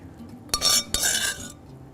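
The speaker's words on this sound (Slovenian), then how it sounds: "Ja, dobro izgleda, šele zelo lepo cvrči." Food sizzles in a hot pan in a MasterChef kitchen as liquid is poured on, giving two sharp, loud hissing bursts that fade after about a second, with faint clinks of cookware.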